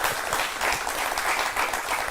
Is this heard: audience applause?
yes